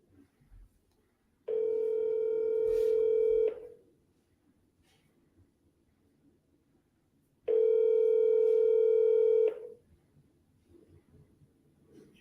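Two long steady phone tones, each about two seconds, separated by a short quiet pause on a telephone line before live agent calls, loud and clear with no talking.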